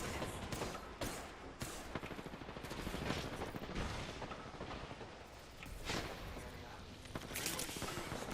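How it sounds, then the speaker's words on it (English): Gunfire rattles in Apex Legends: dense, repeated shots and thumps crack across the clip, loud and busy, with a player's voice occasionally present underneath. "Someone's shooting at me."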